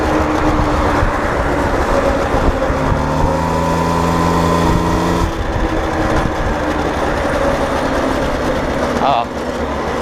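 A 1979 Motobecane moped engine runs with a steady buzzing drone and a faint rising tone. It plays loud and close throughout, and a voice speaks over it.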